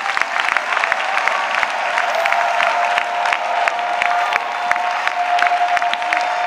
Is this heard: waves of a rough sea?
no